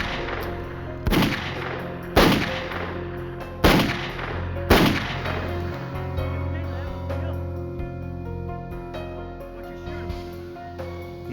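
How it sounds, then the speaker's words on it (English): Gunshots from a .357 handgun ring out as four loud, evenly spaced reports, each decaying into a long echo, with a low sustained tone underneath. "Suddenly, Dallas was firing a gun."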